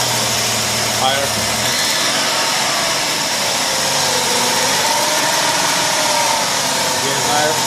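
A 2006 Chrysler Town & Country engine with a whining fault revs up and holds, a loud, steady engine roar topped by a high, sustained whine, with voices speaking at times.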